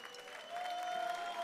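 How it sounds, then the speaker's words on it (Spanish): Applause from a crowd at a metal and pop-rock concert in Bilbao, a faint spread of clapping that swells slightly after the first half second while a steady tone hums underneath. "Así que un aplauso a nuestro Isaac, que está hoy, vamos"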